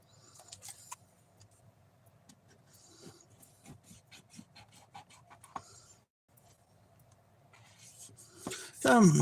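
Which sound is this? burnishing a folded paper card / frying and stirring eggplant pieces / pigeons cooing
burnishing a folded paper card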